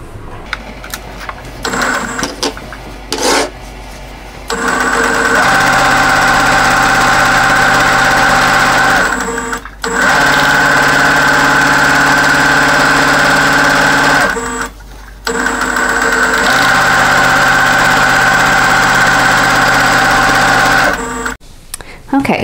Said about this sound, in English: So now I just need to sew the other side, just the opposite side.